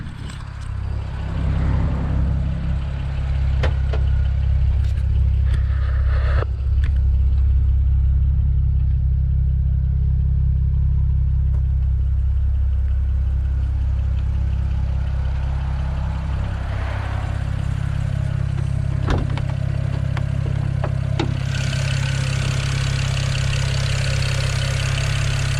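A 600 hp single-turbo BMW 335i idles with a steady, deep, loud engine rumble throughout, with a few brief clicks and a hiss rising toward the end.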